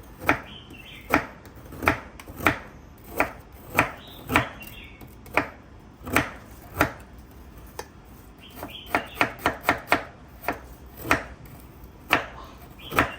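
A knife chops through hardened coconut cream on a board while preparing a Thai dish of banana blossom with minced pork. Steady, close, sharp chops about every half second, with a quicker flurry midway, and no voices.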